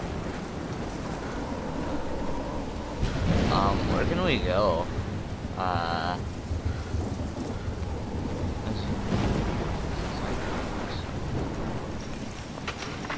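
A heavy thunderstorm in the Oregon setting of the video game Life is Strange: steady loud rain and rumbling thunder roar continuously, with a few louder swells, as a person speaks briefly over the storm.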